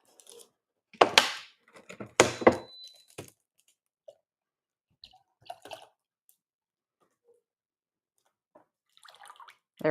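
Water pours into a container for water glassing eggs in two short splashing bursts close by, followed by quiet with a few small clinks and drips.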